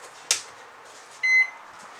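A microwave oven gives a single short electronic beep as power returns to it, preceded by a faint click, over a quiet background hum.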